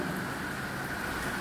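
Heavy monsoon rain pours down steadily, a dense and unbroken roar of falling water.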